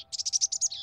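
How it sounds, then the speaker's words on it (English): Birds chirp in a quick run of about eight bright, evenly spaced notes, close and clear over a faint steady hum, in a quiet breakfast scene from a children's cartoon. "Just the birds singing sweetly."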